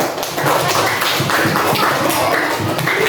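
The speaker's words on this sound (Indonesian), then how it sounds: "Tepuk tangan dulu." A group of people, likely a class of learners, clapping their hands together in a steady, dense burst of loud, close applause lasting several seconds.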